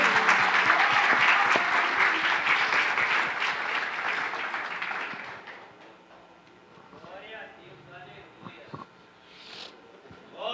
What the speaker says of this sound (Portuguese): As palmas louvam e engrandecem o nome do Senhor.